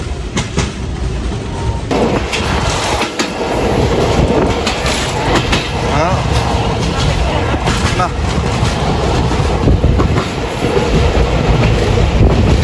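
A passenger train races at high speed past the city of Rajshahi, heard from on board as a loud, unbroken roar of rumbling wheels and rattling carriages, with rhythmic clatter throughout.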